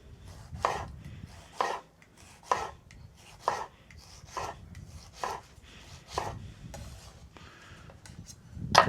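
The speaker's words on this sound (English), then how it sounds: "Cut a tomato." A knife slices through a tomato on a board with about nine crisp, evenly spaced cuts roughly a second apart, close and clear with no talking.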